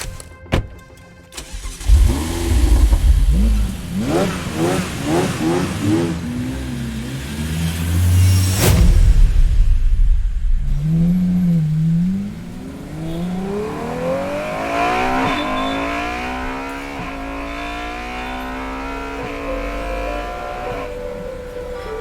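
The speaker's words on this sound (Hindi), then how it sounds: "कबीर और इशिका एक साथ फरारी में बैठकर वहां से निकल गए" A Ferrari starts up and revs loudly with rising and falling engine pitch, then pulls away and accelerates through the gears. The engine note climbs repeatedly and stays close and prominent throughout, with no talking.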